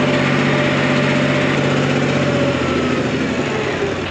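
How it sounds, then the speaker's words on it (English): A farm tractor's engine runs steadily and loud throughout, a close, even drone with a low rhythmic chug, heard with no talking over it. "Well, I'm on the tractor now."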